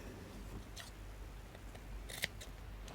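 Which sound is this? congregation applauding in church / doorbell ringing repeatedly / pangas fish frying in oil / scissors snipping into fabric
scissors snipping into fabric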